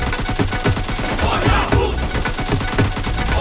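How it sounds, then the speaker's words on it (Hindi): Rapid bursts of gunfire from a video game, a dense, loud stream of repeated shots running without pause. "हम इधर गोली चला रहे हैं"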